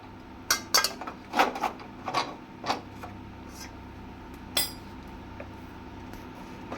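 Metal wok set back down on a home stove while cooking a sweet-and-sour pickle: several light clanks and scrapes of metal in quick succession, then one more clink a few seconds later, all fairly faint and close.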